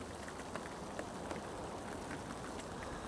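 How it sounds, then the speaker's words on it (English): Light drizzle falls outdoors as a steady, soft hiss, with faint scattered drops ticking on surfaces and no voices. "It's only raining, it's drizzling with rain very slightly."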